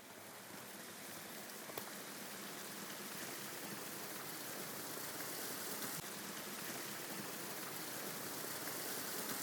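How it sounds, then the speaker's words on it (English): Steady, dense rushing water fills the whole stretch, a continuous broadband wash from a nearby river beside a footpath in Cornwall, England, with no voices. "Got the sound of the river."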